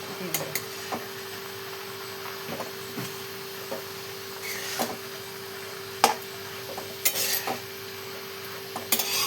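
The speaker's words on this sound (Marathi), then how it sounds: "असं छान परतून घेऊया आपण सगळं मिक्स करून घेऊया" Radish sabzi with moong dal being stirred and sautéed in a pan, giving soft scraping and clinking spoon strokes at irregular intervals over a faint steady hum.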